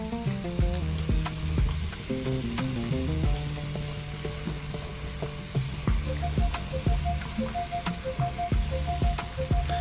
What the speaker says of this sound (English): I'm now going to add some sliced onions in the mix.